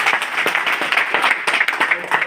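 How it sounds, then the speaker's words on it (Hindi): Crowd applause at a political party meeting in Bhadra during an election campaign, a dense, steady patter of many hands clapping close by, with voices mixed in. "1 लाख जोरदार तालियां बजाइए"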